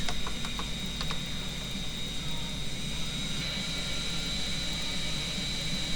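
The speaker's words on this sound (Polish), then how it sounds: "Tutaj CJ leci samolotem, ale przewinimy to." Airplane flight in a Grand Theft Auto: Vice City mod: a steady, low engine drone with a thin high whine, continuous and fairly quiet, with a few faint clicks early on.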